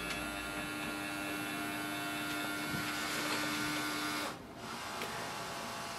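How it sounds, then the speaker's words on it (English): A Canon Pixma TR4700 series all-in-one printer scanning, giving a steady close mechanical whir with a sustained tonal hum that drops away abruptly near the end, followed by a quieter hum. "Automatically it will start the scanning."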